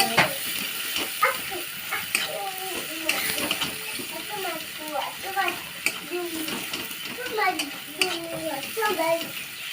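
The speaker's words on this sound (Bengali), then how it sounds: "শুকনো লঙ্কার গুঁড়ো দিচ্ছি। মশলাটা ভালো করে কষিয়ে নেবো 1 থেকে 2 মিনিট।" Spice masala with dry chili powder is fried and stirred in a pan, a continuous low sizzle with scraping strokes, while a voice talks intermittently over it.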